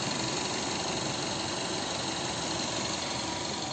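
A Mazda 6 2.0-litre naturally aspirated petrol engine, a 16-valve twin-cam Japanese unit with automatic gearbox, idles steadily with a constant low rumble and faint mechanical ticking, close by and alone.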